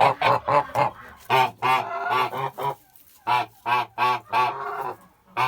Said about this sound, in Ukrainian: Наша гусечка молоденька